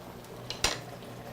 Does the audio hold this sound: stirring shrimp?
yes